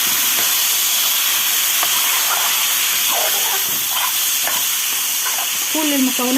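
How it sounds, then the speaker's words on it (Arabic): Washed rice is stir-fried with the other koshari ingredients in a hot pan, making a loud, continuous sizzle and hiss with scraping stirs and clinks of the spoon, and a voice talks briefly underneath. "هبتدي اضيفه اشوحه يا جماعه كده، اشوحه تشويحه مع بعضه كل المكونات"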